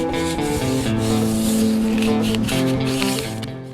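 Steady abrasive rubbing of sandpaper over a gray-primed 13-inch steel rim from a 1982 Datsun 210, close and continuous with slight strokes, no talking.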